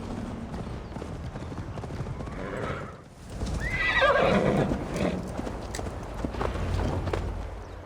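In the video game Assassin's Creed Valhalla a horse's hooves clip-clop at a gallop while it gives a loud, close neigh midway, the hoofbeats running steadily throughout.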